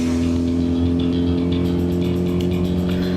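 A motorcycle engine running on a dyno in a steady-state test, a loud, constant, droning hum whose revs creep up slightly, heard alone without talk.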